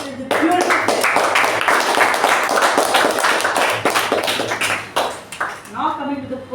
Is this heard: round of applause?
yes